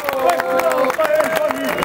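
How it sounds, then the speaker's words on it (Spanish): Crowd at a Spanish-language rap battle final applauds and cheers in a loud, dense burst, with a voice ringing out over the clapping throughout. "un aplauso para ustedes"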